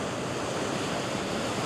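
Ocean surf at a beach at sunrise, a steady, loud wash of breaking waves filling the whole stretch with no voices.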